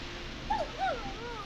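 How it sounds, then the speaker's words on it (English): A neighbor's dog in the video game Killer Frequency gives two short whimpering yips in quick succession over a low steady background hum, moderately close and with no talking. "Is that a neighbor's dog? Yes, it is."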